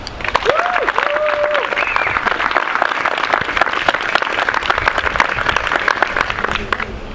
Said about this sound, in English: Can we get a round of applause for Mike Mueller?